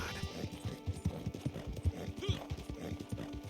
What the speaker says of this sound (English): Shut up, horse. You're being a big baby.